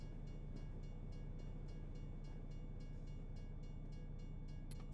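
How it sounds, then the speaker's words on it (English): A freight train rumbles past in American Truck Simulator, a steady low roar with rhythmic clickety-clack of wheels over rail joints, continuous and fairly near, with no talk over it. "Another train. This is the fourth one I've seen today."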